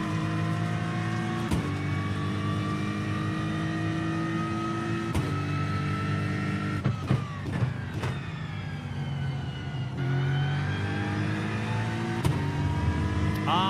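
GT3 race car engine in the iRacing sim at the Nürburgring, a steady high-revving drone with sharp gear-shift blips and brief throttle changes, loud and continuous with no talk.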